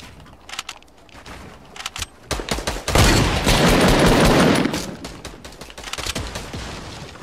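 Loud gunfire from a shooter video game, with scattered shots building into a sustained heavy volley in the middle before thinning back to intermittent reports, no voices.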